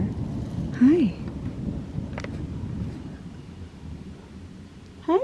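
Steady rain hiss from an approaching thunderstorm runs through the whole stretch, loud and close, with a brief voice near the start and at the very end.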